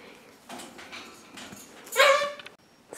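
A puppy gives soft whimpers and whines, then a brief louder yipping cry near the end, heard close and fairly quiet indoors.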